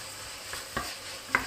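Onions sauteing in butter and oil in a home kitchen pan for chili sauce give a quiet, steady sizzle, broken by a few soft stirring clicks and scrapes.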